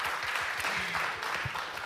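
Brief audience applause at a Finnish talk event on radical song, a dense and steady patter of many hands clapping together.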